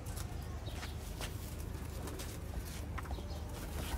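Sialkoti pigeons in a loft give low, soft coos amid a busy, noisy background with scattered clicks and light rustling, no voices standing out.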